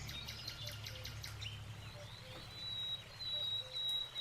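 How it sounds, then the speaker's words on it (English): A small bird sings outdoors, faint thin chirps and a high whistled note repeating over a quiet low background hum. "Little bird."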